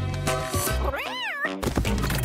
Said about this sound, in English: Oh, look, it's a cute little kitty cat.